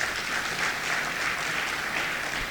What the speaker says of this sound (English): Give them a round of applause to encourage them.